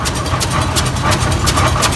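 An antique Vidyard narrow-gauge tractor rolls past in a parade of land tractors and homemade machines, its engine a steady low chugging throb with rhythmic exhaust pulses, fairly close and continuous.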